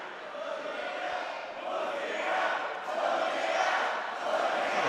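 A crowd at a grappling match roars and cheers in a broad sustained wash of voices, swelling and easing over several seconds, loud and without clear individual speech.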